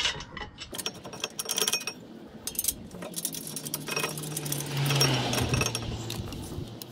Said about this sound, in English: tightening up my bolts